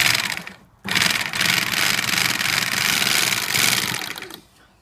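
A Newlong NP-7A sewing machine stitches a row with UV-treated thread, running as a fast steady rattling whir for about four seconds after a short pause, then stopping.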